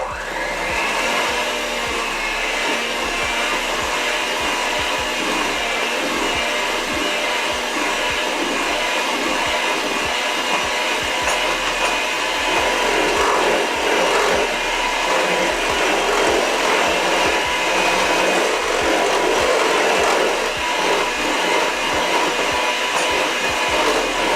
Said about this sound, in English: it's gonna be a little noise from the mixer